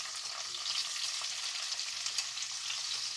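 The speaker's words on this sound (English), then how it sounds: "We're going to saute our peppers and our onions" Red peppers and onions sautéing in two tablespoons of olive oil, a fairly quiet, continuous bright sizzle with light crackles and an occasional stir, no one talking.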